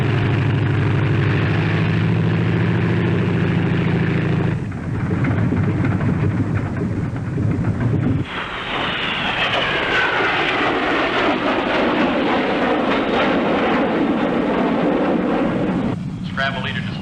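Jet fighters scrambling, a loud continuous engine roar that shifts abruptly partway through into a higher, rushing whine, with no speech over it.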